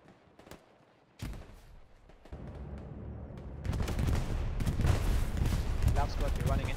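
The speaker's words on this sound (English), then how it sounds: "This bombing run should help." A bombing run in Hell Let Loose opens with scattered distant shots, then builds into a heavy, continuous barrage of explosions and rumbling blasts that grows louder and denser, with gunfire crackling throughout.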